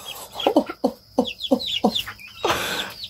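Chickens on a farm, including a rooster, cluck in a quick series of loud, close calls, with a burst of rustling flapping at the end.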